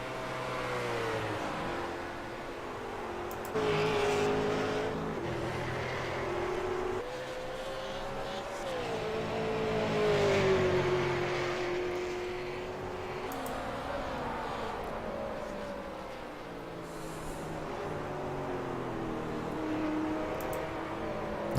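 Race cars, a Riley DP prototype leading a pack of McLaren MP4s, drone past at a distance with rising and falling engine tones and gear changes, a continuous moderate roar throughout.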